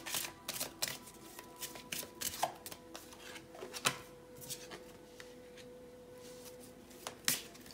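A deck of tarot-style cards shuffled and pulled for a pick-a-card reading, with quick riffling bursts and soft snaps of single cards, close and quiet, with no talk.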